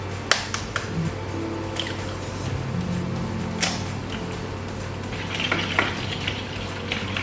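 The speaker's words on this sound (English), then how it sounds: "First smash the banana, then mix in the eggs" A fork mashes banana and mixes in eggs in a bowl, with faint clinks and soft squishing strokes over a steady low kitchen hum.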